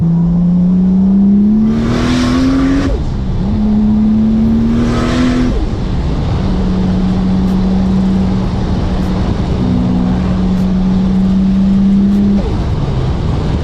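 Toyota Supra engine on low boost revving hard through several gear shifts, each rising pull broken by a brief dip at the change, loud and close with no talking.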